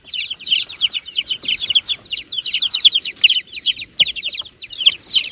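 Week-old chicks, a few with feathered feet and grey downy feathers, keep up a steady, close chorus of high, rapid peeping chirps for several seconds.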